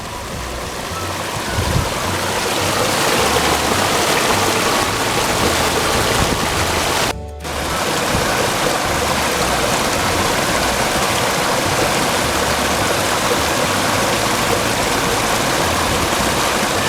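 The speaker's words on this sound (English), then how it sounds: "Flat Kelvin loves to explore robot-sized waterfalls on his Earth Day walk." A small waterfall and stream flow outdoors on a walk, a loud, steady wash of rushing water that continues without pause, with a brief dip near the middle.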